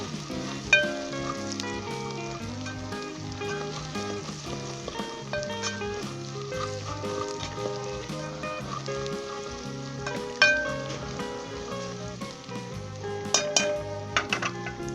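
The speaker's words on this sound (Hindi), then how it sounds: "ये सारे स्पाइस, और 10 सेकंड के लिए हम इसे फ्राई करेंगे।" Spices frying in a pan for Lahori kaleji pota masala with chicken liver, heart and gizzard, a soft sizzle with occasional clinks of utensil on pan, largely buried under steady music.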